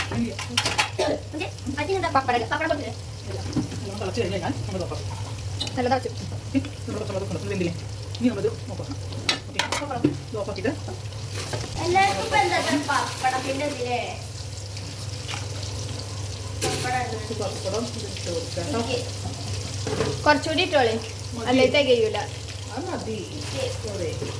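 Pieces of river fish, including karimeen, fry in a pan with a steady sizzling hiss and occasional stirring clatter, while people talk loudly over it throughout.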